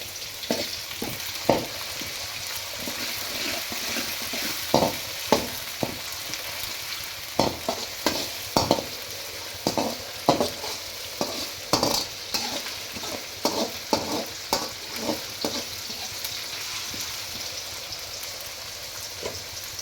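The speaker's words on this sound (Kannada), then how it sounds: "ಟೊಮೊಟೊ ಸೇರಿಸ್ಬಿಟ್ಟು ಚೆನ್ನಾಗಿ ಟೊಮೊಟೊ ಮೆತ್ತಗಾಗೋವರೆಗೂ ಎಣ್ಣೆಯಲ್ಲಿ ಬಾಡಿಸಿ" Tomatoes and onions fry in oil for red chilli chicken: a steady soft sizzle broken by repeated clanking scrapes of a spoon stirring against the pan, irregular and close, with no voices.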